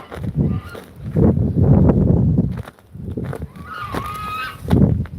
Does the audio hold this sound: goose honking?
yes